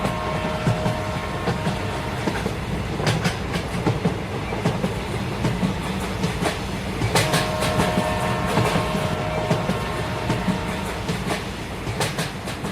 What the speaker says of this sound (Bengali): একটা ট্রেন গেল, কিন্তু এটা কোথায় গেল এটা কিন্তু দেখতে পারলাম না আমরা।